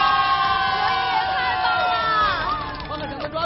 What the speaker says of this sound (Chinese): 我们再欢呼一下